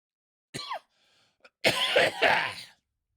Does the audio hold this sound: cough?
yes